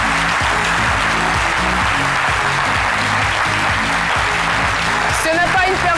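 A studio audience on a French-language midday TV show applauds loudly and steadily for a guest singer, a dense continuous wash of clapping with music underneath.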